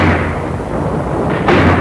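Sustained thundering barrage of 37mm guns and mortars in battle, loud and dense broadband rumble with a sharper blast near the end, no voices.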